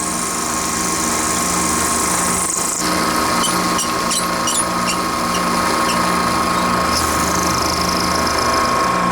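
A metal lathe cuts away excess material from a tailstock part in a continuous loud whir with a steady tonal hum, interrupted briefly by a short dip and a few scraping ticks.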